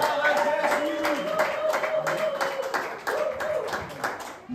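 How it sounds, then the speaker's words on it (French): A church congregation claps and acclaims God, with steady rhythmic hand claps from the crowd, voices singing and cheering along, and a sustained vocal tone running through it. "Acclamons très fort."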